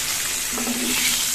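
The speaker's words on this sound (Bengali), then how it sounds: "একটু নুন দিয়ে দিলাম, একটু ভালো মতন ভেজে নিচ্ছি" Food sizzles steadily in a pan with salt and turmeric, a close, continuous crackling fry with a light stir or scrape partway through.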